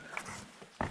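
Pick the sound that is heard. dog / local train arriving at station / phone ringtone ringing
dog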